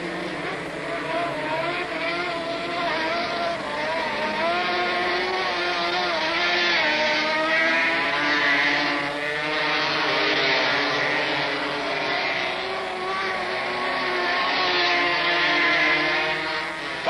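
Racing motorcycles at the 1971 Daytona short track race neck and neck; a continuous high engine whine from several bikes rises and falls steadily as they lap, loud and sustained throughout, with no talk.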